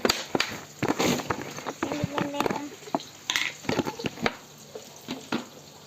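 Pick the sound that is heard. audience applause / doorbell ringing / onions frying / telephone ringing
onions frying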